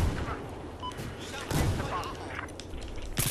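Bursts of gunfire ring out in the Battlefield 4 shooter game during an Obliteration match, loud and close, with sharp shots near the start, middle and end over dense battle noise.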